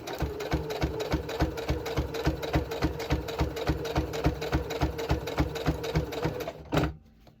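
A sewing machine stitches a quilt with a steady, rapid mechanical chatter of needle strokes that runs loud and close for several seconds, then abruptly stops.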